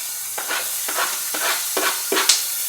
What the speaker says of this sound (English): So I'm just going to take these onions and these diced up jalapenos, throw them in with some butter, saute them off.